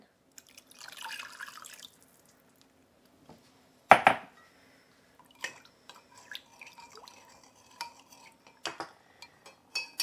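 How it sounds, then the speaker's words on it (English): Water is poured into a glycerin mixture in a kitchen, a brief soft splashing pour followed by scattered clinks of glass and utensils, close and quiet. "so now I'm going to grab 1 1/3 cups of water and add that in."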